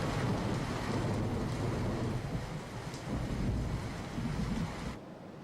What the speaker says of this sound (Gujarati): બનાસકાંઠામાં ધોધમાર વરસાદ વરસી રહ્યો છે